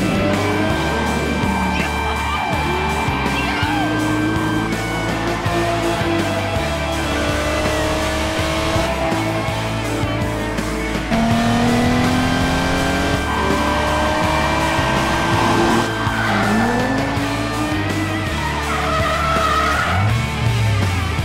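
A drift car fitted with Nexen tires and nitrous races loud and close. Its engine revs rise and fall, and long tire squeals and skids run on and off throughout.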